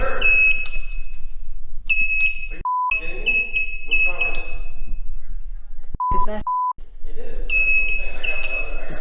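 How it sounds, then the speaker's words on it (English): A TaoTao TBR7 motorcycle's turn signal gives off repeated high electronic beeps in regular bursts, loud and close, with a lower tone sounding between some bursts and people talking over it. "Since when do blinkers beep?"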